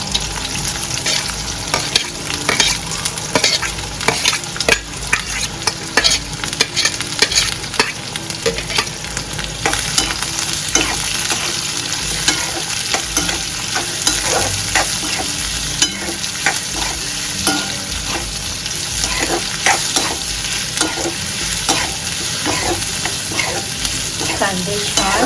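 Onions frying in a pan until they turn transparent, a steady bright sizzle with frequent scraping and clinking of a stirring spoon throughout, close and fairly loud, with no voices.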